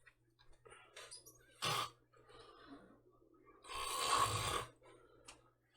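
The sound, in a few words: person snoring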